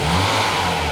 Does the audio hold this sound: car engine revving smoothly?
yes